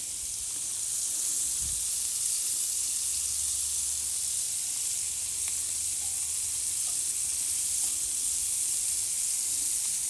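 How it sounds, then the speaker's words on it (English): Andouille sausage and scallops sizzle in a very hot skillet on an outdoor deck, producing a loud, unbroken hissing sizzle that holds steady from start to finish. "We'll let those get a little bit of a scorching on the bottom."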